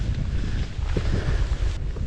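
Strong wind at about 20 blows across Lake Okeechobee as heard from a fishing boat, a steady loud buffeting rumble against the microphone with faint water movement beneath it.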